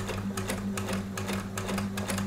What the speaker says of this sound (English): with my sewing machine